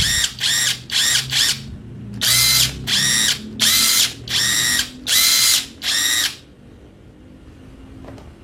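A Modern M65 impact wrench runs at maximum speed in loud, close bursts, about ten whirring blasts with brief pauses between them, then a quiet tail.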